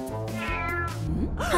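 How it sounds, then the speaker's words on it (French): A cat meows in drawn-out, wavering cries, several close calls in a row with rising and falling pitch, heard clearly with no talk over them. "Oh non, le chat est réveillé."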